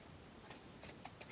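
Pinking shears snipping through fabric while sewing a cloth doll, a few short crisp cuts at close range, quiet and alone.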